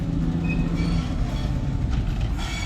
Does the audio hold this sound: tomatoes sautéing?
no